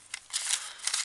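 Paper being snipped with scissors while decorating a Christmas box, a few short crisp cuts in quick succession, close and fairly quiet with no talking.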